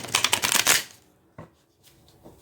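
Tarot cards shuffled by hand, a close rapid riffling flutter for under a second, then a couple of soft taps as the deck settles.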